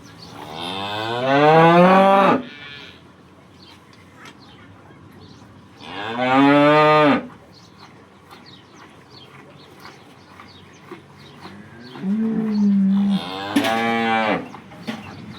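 A red cow that calved the day before, just milked on a Banaskantha farm, gives three long, loud, close moos separated by quiet pauses.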